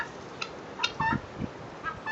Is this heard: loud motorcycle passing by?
no